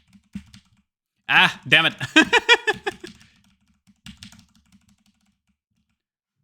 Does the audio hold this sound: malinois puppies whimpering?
no